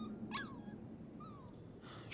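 A dog in the video game Life is Strange 2 gives short whimpering yips, one high whine followed by a softer one, set against a quiet game ambience with no speech.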